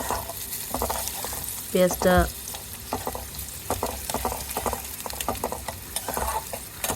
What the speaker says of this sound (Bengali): আমি পেঁয়াজটাকে ভালো করে নেড়ে চেড়ে মিশিয়ে মিশিয়ে ভেজে নিচ্ছি।